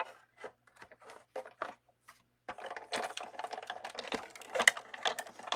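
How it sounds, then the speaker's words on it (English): A die cutting machine feeds washi through its cutter with a steady rapid mechanical chatter that runs loud and close, preceded by a few scattered light clicks and handling taps. "And then running it through your cutter."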